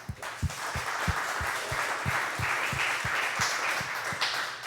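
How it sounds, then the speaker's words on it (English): An audience at a small business festival applauds a speaker, with a crowd of hands clapping under a few distinct, rhythmic nearby claps that repeat about every third of a second, moderately loud and steady. "Can we give him a clap?"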